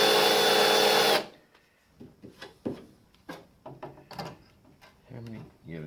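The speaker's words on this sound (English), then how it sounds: "I'm still using the original 2 spot weld drills, but they're pretty knackered now." A spot weld drill bores into the steel body of a Ford ZK Fairlane with a loud, harsh grinding whine for about a second, then stops abruptly, followed by clunks and scrapes as someone speaks.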